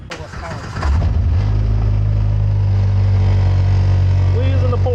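A Polaris utility vehicle's engine starts up close by and settles into a loud, steady idle with a deep drone, while a person talks over it.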